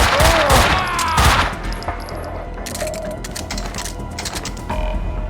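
Rapid gunfire in Max Payne 2, with dense clattering shots and a loud burst at the start. Shots thin to scattered cracks and metallic clinks, then pick up again near the end.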